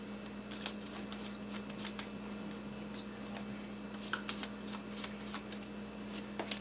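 A deck of tarot cards is shuffled by hand nearby, giving a run of crisp riffling and flicking bursts in an irregular rhythm, with no talking.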